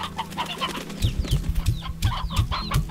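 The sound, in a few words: chickens clucking on farm in Slime Rancher video game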